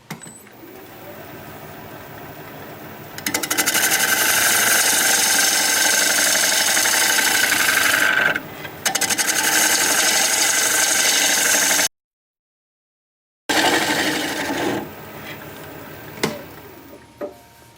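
A wood lathe spins a Russian olive bowl while the tool cuts its bottom, giving a loud, steady buzzing whir with a brief dip and one abrupt full stop before the cutting resumes.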